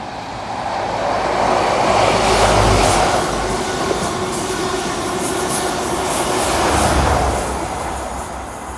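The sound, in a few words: class 43 train in GWR livery passing by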